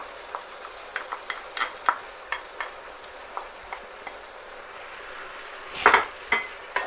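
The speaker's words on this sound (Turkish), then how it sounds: "Domateslerimizi ekleyebiliriz. Şöyle ekleyelim." Tomatoes go into a sizzling beef sauté and are stirred, with a continuous frying hiss under scattered light spoon taps and a louder scrape near the end.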